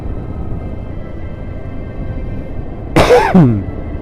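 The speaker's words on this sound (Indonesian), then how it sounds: "Batuk" Steady low background rumble, then near the end a single close, harsh cough or throat-clearing burst in two quick parts.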